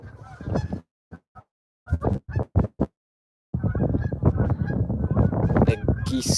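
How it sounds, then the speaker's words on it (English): Geese honk near horses in a barn: a burst of raucous calls, then scattered single honks and short gaps, followed by a dense, continuous chorus of close, loud honking. "The geese scared the horses."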